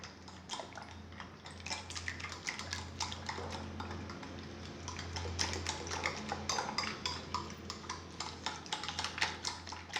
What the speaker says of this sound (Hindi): अब इनको अच्छे से फेंटेंगे, चीनी को मिक्स करेंगे।